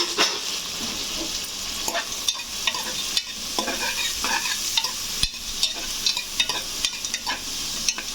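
Onions frying with turmeric in a pan for mutton curry, a continuous close sizzle broken by repeated scraping stirs and clinks of a spoon, with no talk over it.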